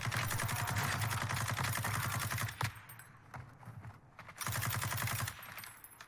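Sustained automatic gunfire in the Warzone 2 video game, dense rapid bursts that cut off briefly, then resume before fading, loud and up close.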